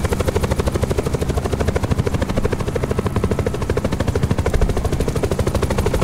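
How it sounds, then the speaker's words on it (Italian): A helicopter in a video game thuds with fast, steady rotor beats, loud and close throughout with no talk over it. "è la prima volta che prendo con voi l'elicottero"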